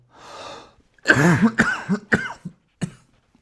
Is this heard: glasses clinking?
no